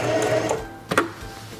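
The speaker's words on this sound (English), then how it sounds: "Release the reverse lever and sew down the seam." A Singer 4411 heavy duty sewing machine stitching a seam, giving a steady motor whir that breaks off midway. A brief clatter and thump follow, then a quieter hum, all heard close up.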